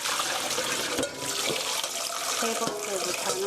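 Boiled noodles for soy sauce noodles are rinsed under a steady, loud stream of running water, a continuous splashing wash with faint handling sounds and a brief spoken phrase underneath.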